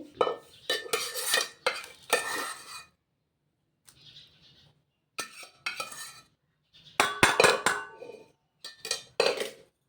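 A pot is lifted off a pressure cooker and handled in a home kitchen while mashed taro is being made, giving bursts of metallic clanks, scrapes and clinks separated by brief quiet gaps.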